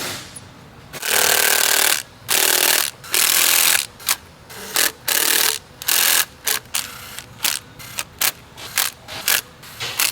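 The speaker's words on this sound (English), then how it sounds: "We're just screwing them down just until it starts to ooze" Rapid bursts of a power driver or ratchet running T30 bolts down on camshaft caps, loud and close, in an irregular series of short whirring runs separated by brief pauses.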